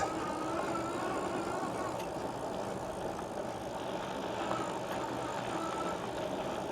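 A Mokwheel Scoria 2.0 electric bike runs under throttle off-road, giving a steady broadband drone of motor whine mixed with tire rumble and wind, continuous and fairly even with no talk.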